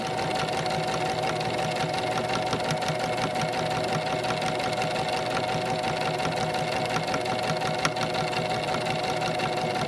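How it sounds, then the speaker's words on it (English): A sewing machine runs steadily while stitching a lanyard, a continuous rapid mechanical chatter that stays close and even, with no voices. "I'm just gonna keep sewing normally."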